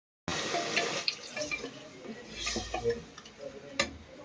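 Water splashes and trickles steadily into a pot of frying vegetables, with faint clinks of metal and a voice speaking softly underneath.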